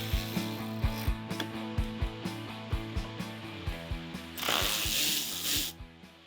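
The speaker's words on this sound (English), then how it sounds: "Pop out the wheel arch and remove the 4 hidden Phillips bolts." A Phillips bit driver ratchets while removing bumper bolts on a BYD Shark 6, giving a steady series of close, rhythmic clicks, with a brief louder whirring burst near the end.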